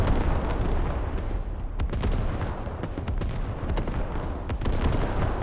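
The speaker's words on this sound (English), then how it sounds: "Canadian artillery getting their money's worth right now" Heavy Canadian artillery fire in the Squad video game, a dense, continuous barrage of booming blasts and sharp cracks rolling on without pause, striking fortifications, watchtowers and ammo crates at a militia base.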